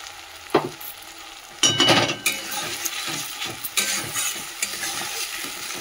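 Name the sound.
stir-frying ginger garlic with tomato and green chilli paste in oil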